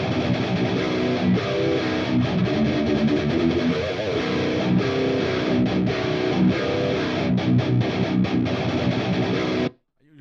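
A 7-string electric guitar played through an analog amp with a dark, heavily distorted tone, thick sustained chords and chugging riffs continuing loud and alone before cutting off abruptly near the end.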